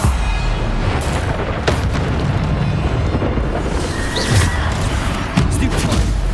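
Bombarda explosion spells burst in Hogwarts Legacy combat: several heavy booming blasts land over a few seconds amid a dense, continuous rumble of battle noise.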